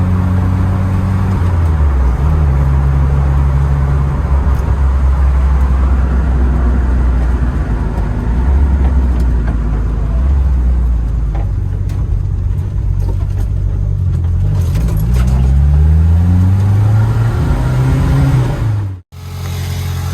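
A Renault Super 5 GT Turbo drives with its turbo failing to build boost, the engine droning loud and close for a long stretch, its pitch climbing and falling through gear changes before cutting out briefly near the end.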